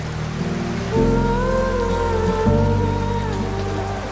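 Steady rain falls and patters on surfaces, a continuous close hiss that stays even throughout under a faint musical tone.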